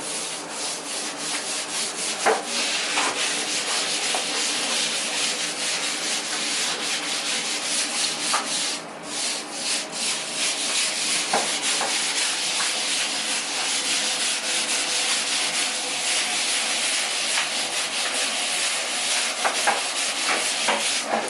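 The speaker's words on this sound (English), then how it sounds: "Take a little glove and rub it in." A gloved hand rubs grout into tile joints with a continuous gritty scrubbing, close and fairly loud, steady throughout with faint rhythmic strokes and brief scraping accents.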